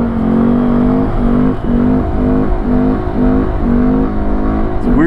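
A Honda Grom motorcycle engine drones steadily and loudly close by while riding, its pitch rising and dipping in repeated rhythmic surges as the throttle is worked through gears.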